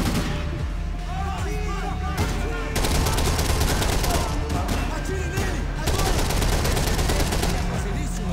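Dense gunfire from the Max Payne 3 video game, with rapid overlapping shots and bursts running continuously and growing heavier partway through, mixed with voices and game sound.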